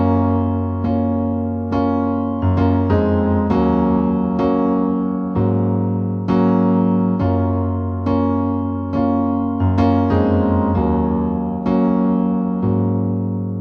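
Solo piano plays the bridge section of a song in the original key, with steady sustained chords struck in a slow, even rhythm, loud and close with no talking.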